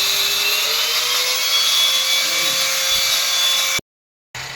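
A power cutter saws a groove into a bathroom wall for a water line, a loud continuous high whine with gritty grinding that runs steadily, cuts out abruptly near the end, then restarts.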